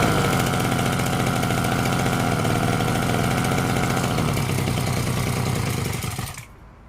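A petrol grass cutter with a fuel leak idles while its carburettor is adjusted, a loud, steady, slightly knocking mid-pitched putter that runs evenly, then sags and cuts out near the end, leaving quiet.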